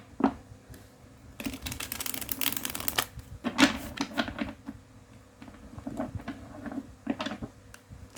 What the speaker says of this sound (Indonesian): di sini aku akan coba shuffle kartunya untuk kamu